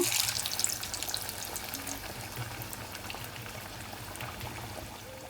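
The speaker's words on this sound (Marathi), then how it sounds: "हे वडे तुम्ही मंद आचेवरच शेकून घ्या व्यवस्थित मंद आचेवर गोल्डन कलर बदामी रंगावर काढायचे आहेत" Lentil vadas fry in plenty of hot oil in a wide, shallow pan over a low flame, giving a steady, soft bubbling sizzle that is slightly livelier at the start and then settles into a quiet, continuous hiss.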